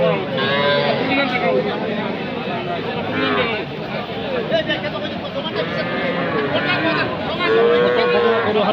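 Cattle low repeatedly amid a busy crowd of overlapping voices at a livestock market, a constant noisy hubbub of animals and people close by.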